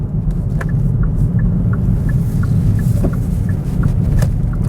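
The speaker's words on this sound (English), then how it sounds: "So I'm going to accelerate up on the highway" Steady, loud road rumble and engine drone from a 2018 Hyundai Elantra GT accelerating onto a highway, with faint ticking clicks above a continuous low roar.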